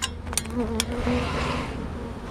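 Honey bees buzzing around an open hive during an outdoor inspection of brood frames, a steady low hum close by with a few louder passes, no talk.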